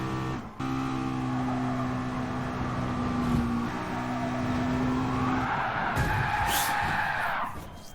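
A race car in the Gran Turismo Sport video game, driven at Laguna Seca, spins its rear wheels on the curbing after taking a left-hander too hot. A steady engine drone carries sustained tire squeal and skidding, loud and close, with no voices.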